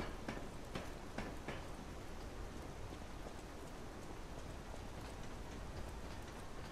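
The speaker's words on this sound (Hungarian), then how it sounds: "Ez az eső ne lenne." Steady rain falls throughout, a dense even hiss of drops on a surface with a few sharper ticks, fairly quiet and with no voices.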